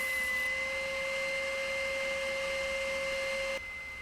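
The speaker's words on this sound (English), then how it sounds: "So I just go to the spindle sander and spend some time getting it nice and clean and straightened out" A spindle sander smooths curved wooden moulding, giving a loud, steady, close motor whine with a strong constant tone that drops slightly in level near the end, with no talk.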